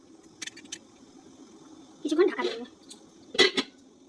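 Metal lid placed on a pot of Bihari-style chicken curry, with a few light clinks followed by two brief metallic clatters, set against quiet kitchen background.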